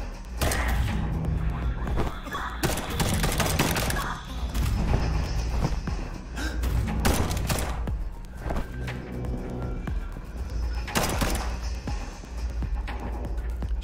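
Video game gunfire with headshot hits from the stream of Liberated, loud irregular bursts and sharp impacts spread across the stretch, with faint voices and game effects between them.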